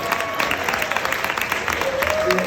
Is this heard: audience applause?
yes